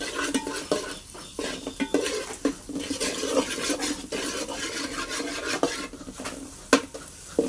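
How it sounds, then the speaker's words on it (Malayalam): Shallots, onion, green chillies and curry leaves sautéing in a pan, heard as steady scraping and stirring of a utensil against the metal with irregular clinks over a soft sizzle, close and continuous. "കൊച്ചുള്ളി സവാള പച്ചമുളക് കറിവേപ്പില ഒക്കെ വിട്ടിങ്ങനെ വാട്ടിക്കൊണ്ടിരിക്കുകയാണ്."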